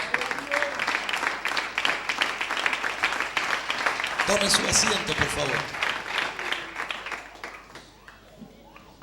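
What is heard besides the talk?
church congregation applause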